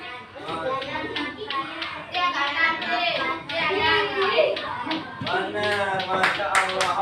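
Children in a classroom clap their hands in rhythmic bursts of sharp, quick claps that repeat in short patterns, with young voices chanting along throughout.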